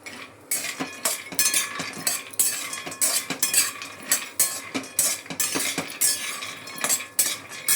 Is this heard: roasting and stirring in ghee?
yes